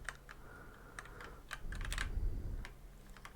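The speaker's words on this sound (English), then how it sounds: "do let me know how you feel about the keyboard sounds" Computer keyboard typing during a Binding of Isaac ASMR game session: close, soft clicking keystrokes in irregular bursts, with a few louder clacks and low muffled thumps in the middle.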